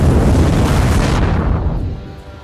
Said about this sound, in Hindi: जिससे एक बड़ा धमाका होता है